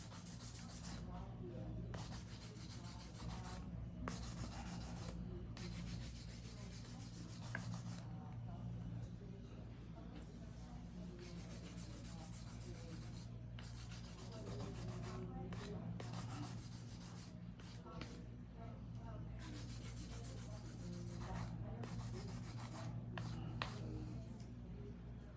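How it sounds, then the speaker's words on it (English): A 100/180 file is drawn by hand across acrylic nails in a run of quiet, scratchy rasping strokes. It carries on steadily over a low, constant background hum. "I'm about to finish here with the hand filing"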